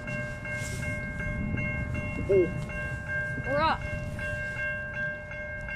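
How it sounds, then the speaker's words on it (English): A CN freight train rumbles past a level crossing in Niagara Falls, Ontario, on a cold windy day, a steady heavy roll with crossing bells ringing throughout and a person briefly speaking. "Third train in the day."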